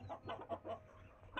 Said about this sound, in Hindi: ब्राउन मुर्गी हमारी अंदर शोर मचा रही